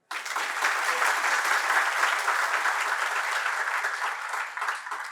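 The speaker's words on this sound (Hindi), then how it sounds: "बजाओ ताली।" A sermon audience breaks into sustained applause, a dense wash of many hands clapping at steady loudness for about five seconds, with no voices over it.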